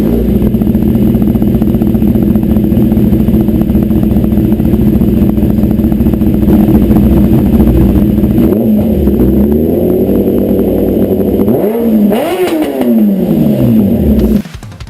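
A 2011 Kawasaki ZX10R sportbike engine runs loud and close, holding a steady high idle before two sharp revs climb and fall near the end, then it cuts off.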